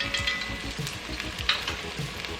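Onions frying with turmeric powder in a pan, a steady close sizzle with crackling pops and occasional stirring scrapes, no speech.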